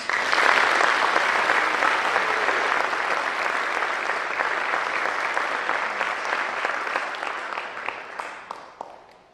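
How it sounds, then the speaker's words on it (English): An awards-night audience applauds scholarship recipients, a dense, loud burst of clapping from a large crowd that holds steady for several seconds and then thins out toward the end. "Please give these students a round of applause."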